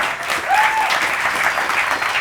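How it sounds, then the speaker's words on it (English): An audience at an investor event at the Atlanta History Center claps in a sustained, dense wash of applause that stays loud and even throughout. "Please give him a round of applause."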